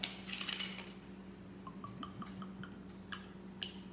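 Wine is poured over fruits soaking for a Jamaican Christmas rum cake, a short splashy pour followed by a few quiet drips against a low steady hum.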